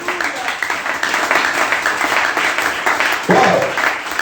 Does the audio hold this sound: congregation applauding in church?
yes